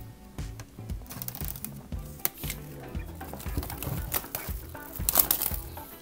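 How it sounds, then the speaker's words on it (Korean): Plastic vinyl wrapping is peeled and crinkled off a fan club kit box in a run of close, uneven crackles and rustles with a few sharper snaps, and no one speaks. "한번 비닐 케이스를 벗겨보도록 하겠습니다"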